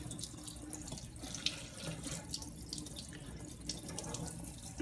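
Tap water runs steadily into a sink to rinse salt out of a DJI Phantom 3 Pro drone after an ocean crash, a close, continuous splashing wash with light drips and no talking.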